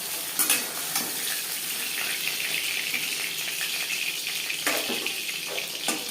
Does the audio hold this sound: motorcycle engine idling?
no